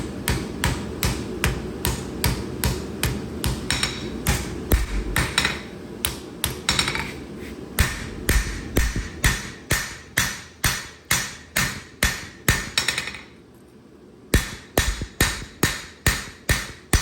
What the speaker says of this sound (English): best to forge evenly on both sides of your knife